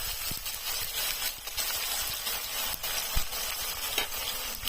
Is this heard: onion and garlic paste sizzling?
yes